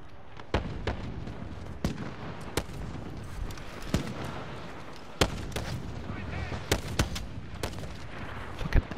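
Sniper rifle shots in Call of Duty: Modern Warfare ring out as sharp, isolated cracks scattered every second or so over steady game ambience, with a player talking in between.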